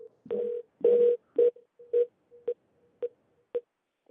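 Telephone ringing on a conference call line, a series of about eight short tonal bursts that start loud and grow shorter and quieter toward the end, heard alone without talk.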